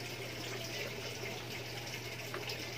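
A newly unboxed submersible water pump on test, pushing a steady, faint flow of water over a low electrical hum.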